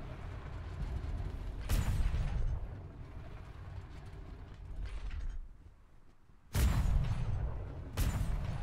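Ship cannons fire in a pirate ghost-ship video game, with a few sharp, booming blasts standing out over a low, continuous mechanical rumble and creaking.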